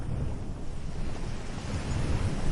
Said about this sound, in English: the low drum of waves against the pier